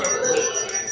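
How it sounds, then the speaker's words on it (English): A Salvation Army bell ringer's brass hand bell rings out in front of stores at Christmas time, a bright, loud, rapid jingle of close strokes heard alone. "it's not Christmas without seeing them Salvation Army bell ringers in front of the stores"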